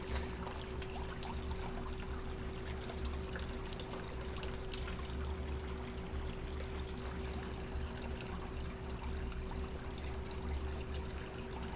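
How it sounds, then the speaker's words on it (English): Water sloshes and trickles continuously as gold concentrate from the South Fork Yuba River is panned down a little at a time, a steady close wash over a constant low hum, with no speech. "Panning her down, take it a little bit off at a time."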